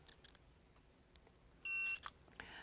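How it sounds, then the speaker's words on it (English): A single electronic beep from a TST 507 series wide-screen display unit's set button, short and steady, rings out clearly over a quiet room background. "hold the set button down until it beeps"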